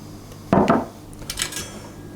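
A spoon or spatula clatters and scrapes against a mixing bowl while coconut milk is stirred into cupcake batter, with a sharp knock followed by softer scraping strokes, close and fairly quiet.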